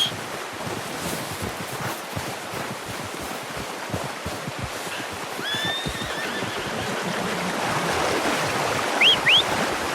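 A horse in the video game Red Dead Redemption 2 whinnies briefly near the end over a steady windy, surf-like wash of background noise.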